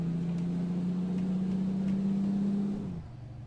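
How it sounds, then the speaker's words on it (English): A Renault Range T truck with a Cummins engine in Euro Truck Simulator 2 drones at a steady low pitch, then winds down and drops off near the end, loud and close with no talking. "Sounds good, doesn't it, that Cummins engine?"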